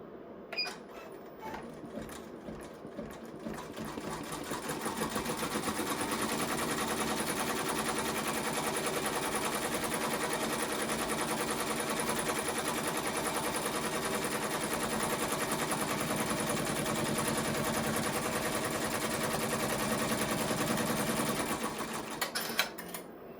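Faint, steady mechanical chatter of a single-needle embroidery machine stitching a sunflower key fob design, running continuously for about twenty seconds before stopping.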